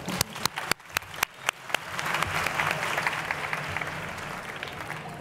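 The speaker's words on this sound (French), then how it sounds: "Je vous remercie simplement d'applaudir et d'encourager la salle." At a Paris e-marketing conference, a few loud separate hand claps quickly swell into full audience applause, a dense sustained roar of clapping from the hall.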